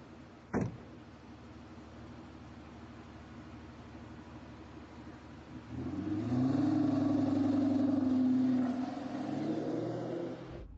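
A car door thuds shut, and after a quiet idle the engine revs up loudly as the car drives off and accelerates, holding a strong roar for a few seconds before fading.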